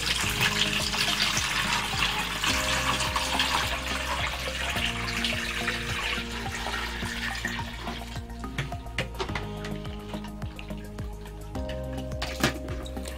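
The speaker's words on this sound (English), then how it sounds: "I'm just going to sieve that one more time" Hibiscus drink (zobo) is poured through a sieve, producing a steady splashing liquid stream with soft trickling and dripping that continues throughout, close and moderately loud, with no talking.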